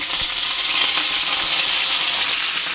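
Cumin and curry leaves tempering in hot oil with black gram and mustard seeds, giving a steady, dense sizzle and crackle close by with no voices.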